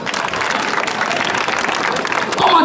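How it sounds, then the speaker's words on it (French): An audience at a Mother's Day rally in Guiglo breaks into steady, dense applause, loud and close, with cheering voices mixed into the clapping throughout. "Applaudissez pour ça."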